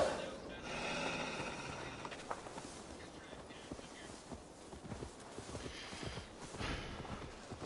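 A horse's hooves clip-clop steadily in Assassin's Creed Valhalla, a walking rhythm of soft, close hoofbeats over a low ambient game background.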